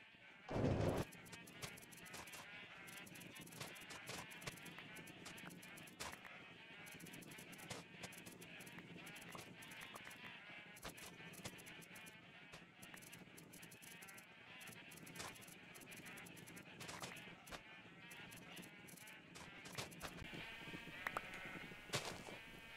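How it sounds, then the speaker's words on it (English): Many sheep bleat in a semi-automatic sheep farm in a Minecraft-style survival game, overlapping bleats repeating throughout over a constant background hum, fairly faint overall. "So we have probably about 20 to 25 white sheep."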